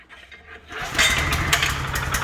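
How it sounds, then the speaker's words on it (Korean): A cultivator with a rotary tiller attachment starts after being choked, its small engine catching with a sputter and settling into a loud, rough idle close by. "자, 시동이 걸렸습니다."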